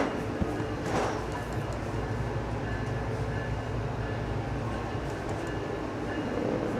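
Brightline premium passenger train pulling out of the Boca station northbound toward West Palm Beach, heard from inside the car as a steady low rumble and hum with a faint clunk near the start.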